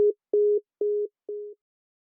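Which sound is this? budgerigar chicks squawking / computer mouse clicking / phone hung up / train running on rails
phone hung up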